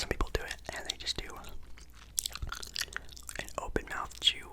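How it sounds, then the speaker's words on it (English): Open-mouth gum chewing for ASMR, close wet smacks, clicks and sticky mouth sounds in an irregular rhythm, interspersed with soft whispery breaths. "an open mouth chew"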